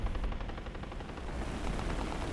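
Biplane machine gun fire in War Thunder from a Hawk III, a steady rapid rattle of shots over continuous engine drone, close and sustained with no talking.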